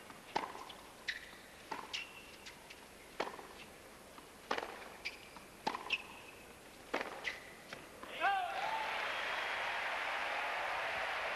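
At the US Open tennis match, sharp isolated ball hits and court sounds ring out in sequence, then the stadium crowd bursts into loud, sustained applause and cheering near the end.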